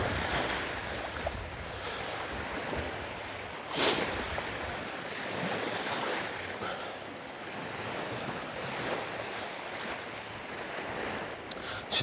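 Waves wash softly onto Tsilivi beach on Zakynthos, a faint, continuous surf hiss mixed with light wind buffeting on the microphone and a couple of brief louder gusts, with no one speaking.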